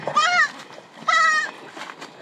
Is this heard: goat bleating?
yes